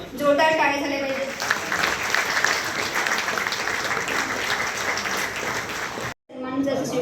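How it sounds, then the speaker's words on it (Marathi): Sustained loud applause from a seated audience at an award ceremony in Nashik, dense clapping that runs for several seconds, with a voice announcing over the start and again after a brief break. "जोरदार टाळ्या झाल्या पाहिजेत."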